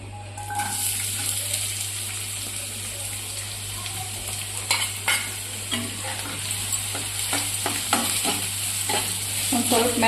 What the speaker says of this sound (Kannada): ಒಂದು ಸ್ವಲ್ಪ ಮೆತ್ತಗಾಗೋ ತನಕ ಇವನು ಹುರ್ಕೋಬೇಕ್ರಿ.